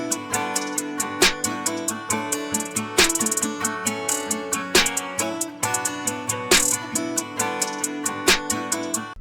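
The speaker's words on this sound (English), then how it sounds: "Then we added some hi-hats that sound like this." Hi-hats ticking rapidly in a country rap beat, with short bursts and occasional rolls layered over drums and a looping melody, loud and steady throughout.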